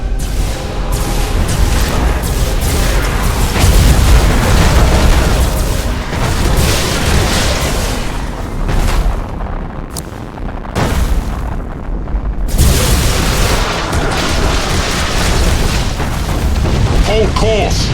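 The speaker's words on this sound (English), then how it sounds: "Tell them to detonate the mines. That explosion should clean our tails of these traitors." Mines detonate in deep space combat in Battlefleet Gothic Armada 2, with heavy booming explosions rolling one after another, loud and sustained, with brief dips between blasts and distorted voices underneath.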